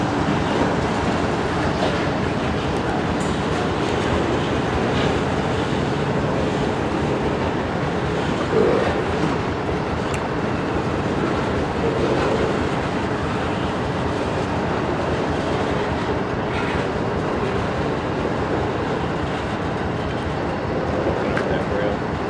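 Union Pacific freight train rolling into a rail yard to switch cars, a steady broad rumble of wheels and rail clatter throughout with no clear pauses; a voice is faintly present under the noise.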